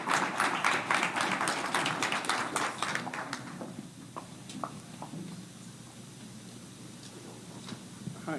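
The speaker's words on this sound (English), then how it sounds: "Let's give Dr. Uzo a round of applause as he comes up" An audience at a conference session on respectful, action-oriented partnerships applauds with fairly dense clapping, which thins into a few scattered claps and fades out after about four seconds.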